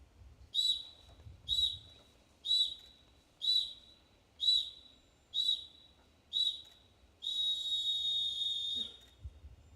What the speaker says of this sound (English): Blow 7 whistles, then the last one, long one,